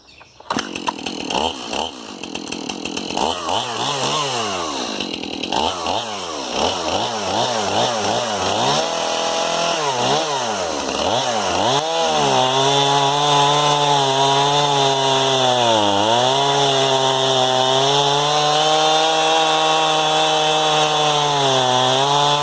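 Stihl chainsaw fitted with a Stihl chain cutting through wood, the engine revving up and down in repeated bursts before settling into a loud, steady, sustained cut at close range.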